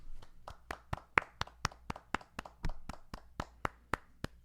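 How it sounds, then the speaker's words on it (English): A podcast host's round of applause comes from just one or two people: about seventeen crisp, close handclaps in a steady, quick rhythm, each one sharp and separate against quiet. "Let's get a round of applause."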